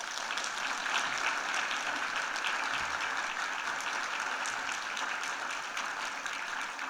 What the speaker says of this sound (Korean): 이석준 강도사님 박수로 환영하겠습니다